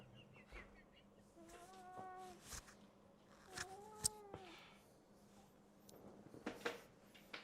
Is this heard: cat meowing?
yes